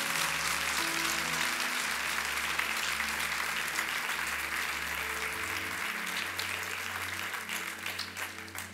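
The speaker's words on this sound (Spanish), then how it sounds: "Den un aplauso fuerte al Señor" Sustained applause from a church congregation during a sermon, a steady wash of clapping with a low hum beneath it throughout, loud and continuous without pause.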